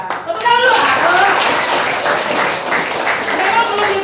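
Audience applause for a former head of the nursing department at a school outreach session, a loud, dense wash of clapping that carries steadily throughout, with children's voices and chatter mixed in.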